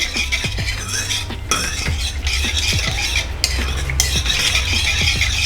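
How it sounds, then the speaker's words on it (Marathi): Patwadi batter is being whisked briskly in a pot over a medium gas flame. The strokes are rapid, repeated and scraping against the metal, loud and close over a steady hiss, with no talking. "त्याला मीडियम गॅस करायचं आणि असं फेटत राहायचं घट्ट होसपर्यंत आपल्याला फेटायचं"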